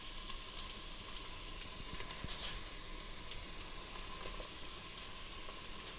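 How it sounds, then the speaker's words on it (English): Onions frying in a pan for chili mac give a steady, quiet sizzle with small crackles, continuous and even throughout. "So in we go with our onions first."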